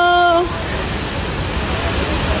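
The number 2 falls at Lake Sebu roars as a constant, loud broadband rush of falling water, while a short tonal voice or whistle briefly cuts through at the start before only the steady water noise remains.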